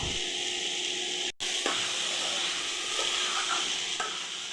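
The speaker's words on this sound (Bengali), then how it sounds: "নারকেল কুড়াটা একটু ভালো করে ভেজে নেব।" Grated coconut fries in a pan with a continuous close sizzle and hiss, stirred with soft scraping strokes and a brief break partway through.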